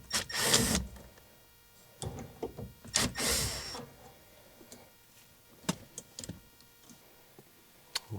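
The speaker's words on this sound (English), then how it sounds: "there's 3 screws here that we'll need to remove." Screws being removed from a 1966 Ford Mustang steering column, with scattered clicks, ticks and short ratcheting bursts of a driver, two louder whirring bursts early, then sparse small metallic taps.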